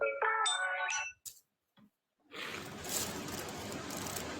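A phone ringtone plays as a short melodic phrase with rising tones, then pauses before being cut off by loud broadband noise.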